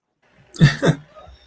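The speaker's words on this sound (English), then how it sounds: "I'm going to clear my throat a bunch." A person clears their throat twice in quick succession, two short close rasping bursts with a faint exhale trailing after.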